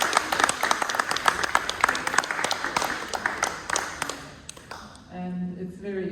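Scattered clapping from a small gallery crowd at an art exhibition opening, sharp uneven claps for about five seconds that thin out and fade before a voice begins speaking.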